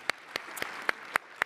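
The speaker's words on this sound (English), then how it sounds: "Round of applause, please." Scattered, faint applause at an engineering deans' student leadership award ceremony: about six sharp, separate claps spaced at a steady, sparse rhythm over a quiet room.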